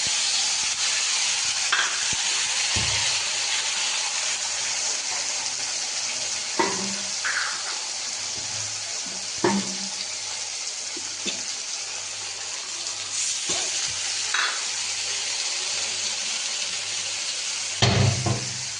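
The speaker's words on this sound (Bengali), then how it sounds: "মশলাটা এবার আমি কষিয়ে নেবো ভালো করে" A spice paste of ginger, onion, garlic, tomato, turmeric, chilli and cumin powder fries in a pan with a constant loud sizzle, while a spoon scrapes and knocks now and then through the stirring.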